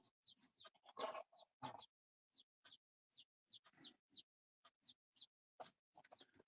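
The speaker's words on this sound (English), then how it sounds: "You guys can hear, y'all can hear the birds, right?" Small birds chirp outdoors in short, repeated high tweets, quiet and spaced irregularly, with a brief stretch of talk near the start.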